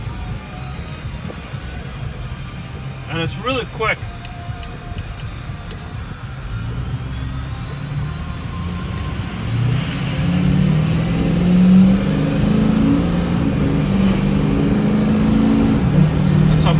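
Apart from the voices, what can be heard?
2005 Ford F-250 6.0 diesel engine turbo whistle while accelerating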